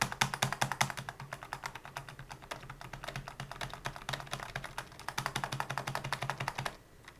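Rapid computer keyboard keys and mouse clicks tapping in quick bursts, close and fairly loud, with a brief drop to quiet at the very end.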